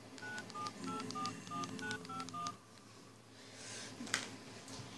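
A phone being dialed to place a call: a quick run of about eight steady beeping keypad tones in a row, followed by quieter background noise and a brief faint click near the end.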